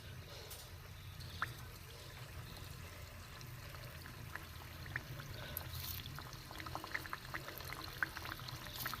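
Stuffed mung dal puli dumplings slip one by one into hot oil, a steady low bubbling frying noise with scattered faint crackles and small splashes throughout.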